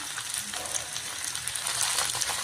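Carrot, beans, cauliflower, butter beans and potato for veg kadai sizzle in a pan while being stirred, a soft, steady frying hiss that swells slightly toward the end.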